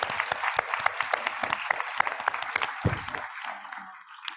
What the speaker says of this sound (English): I think you all owe yourself a round of applause for that